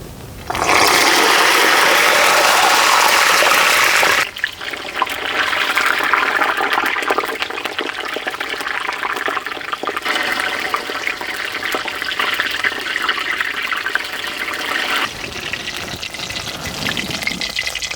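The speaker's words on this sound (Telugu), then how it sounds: "నూనె వేడెక్కగానే 5 వంకాయలు వేసుకుని వంకాయలు మెత్తబడే వరకు ఫ్రై చేసుకుందామండి" Five brinjals sizzle in hot oil in a kadai for an Andhra-style stuffed brinjal fry, giving a loud, steady hiss that starts abruptly and holds continuously with only slight shifts in texture.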